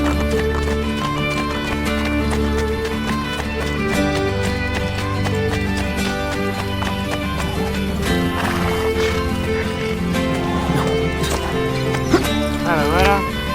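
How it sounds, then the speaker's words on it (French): Horse neighing and galloping in the video game Assassin's Creed Brotherhood: rhythmic clip-clop hooves and whinnies over steady, tonal game music, with voices in the mix. "Son cheval préféré s'est sauvé."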